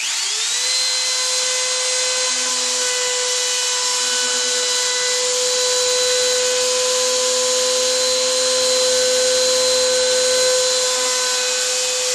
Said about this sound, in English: Clamp this end. I'm going to route